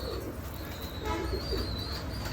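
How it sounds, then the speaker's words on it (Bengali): Pet pigeons, including racing Baghdadi birds with young, coo in soft repeated phrases nearby against a low background hum, with no speech. "আমার কবুতরে খুব ভালো ভালো বাচ্চা আছে"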